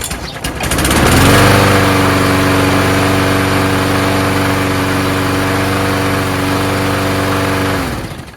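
A Murray push lawn mower with a primer-bulb Quantum engine revs up quickly, runs loud and steady with a buzzing, even drone for several seconds, then cuts off and winds down.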